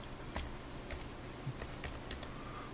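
Typing on a computer keyboard, several distinct key taps spaced irregularly across the moment, close and fairly clear over a low steady hum.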